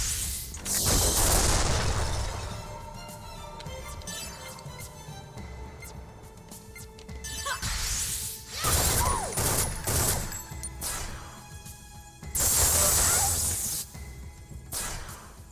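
Bursts of gunfire in the Xenosaga Episode III video game, loud volleys of rapid shots and booms clustered in three main salvos with brief quieter gaps between, game effects without talk.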